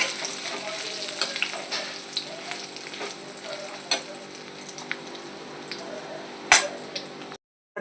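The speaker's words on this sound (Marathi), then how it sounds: "आपल्या मिरच्या कमी आचेवरती फ्राय करून घ्यायचं" Chillies frying in oil in a pan on low heat, a steady soft sizzle with scattered crackles and pops and one sharp clink near the end, close, no talking.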